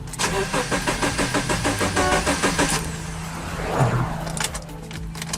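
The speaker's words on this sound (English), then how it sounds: "Now we're cranking it to ensure that all the fuel is out of the pump lines." A 2013-2014 Subaru Outback engine cranks after fuel pump replacement, with a fast rhythmic starter chug for several seconds before it shifts into a rougher, uneven engine rumble, loud and close.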